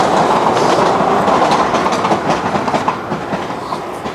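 A train passing close by, loud rumbling with steady rhythmic clickety-clack from the wheels on the rails, continuous throughout without talk.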